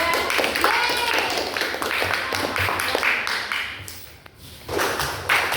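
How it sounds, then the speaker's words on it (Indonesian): Classmates clap for a presenting group in an Islamic religious education teacher-training class, a scattered patter of hands that thins out, then picks up again near the end, with some voices mixed in. "tepuk tangan dulu untuk kelompok 2"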